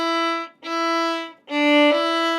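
Bowed fiddle notes from a jig-style scale exercise, played with slurs so each downbeat lands on a down bow: three sustained, bright bowed phrases with short gaps between them, played close and clear with no talking.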